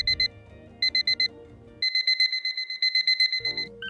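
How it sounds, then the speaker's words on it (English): Electronic alarm clock going off with rapid bursts of high beeping, clustered in quick groups and then a longer run, loud and close, over some low background clatter. "every time that alarm goes off"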